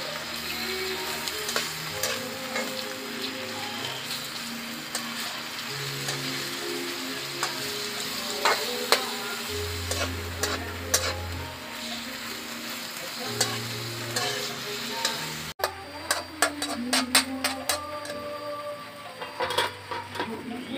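Chunks of bat (kabog) meat are stirred in a frying pan while cooking into adobo. Scraping stirs and steady sizzling run throughout, with a bed of background music underneath.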